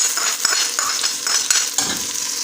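Onions sautéing in a pan for keema spaghetti, a close, bright sizzle with quick repeated stirring scrapes and occasional utensil taps, no voices.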